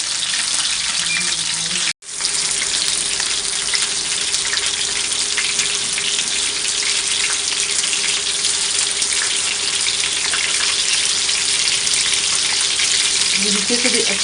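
A chapli kebab patty frying in oil in a pan gives a loud, unbroken hiss and crackle, briefly cut by a sharp gap near the start before resuming at full strength, with faint background sounds.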